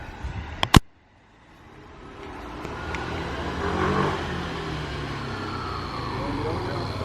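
A Vespa scooter rides up toward the listener along the Amalfi Coast in Italy, its engine hum rising steadily from quiet to a moderate, sustained drone after a couple of sharp knocks at the start.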